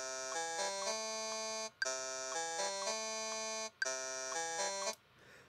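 Electronic beeping from the Ableton Live 8 metronome: steady, loud tonal pulses over sustained synth tones that cut out briefly twice, then stop before the end.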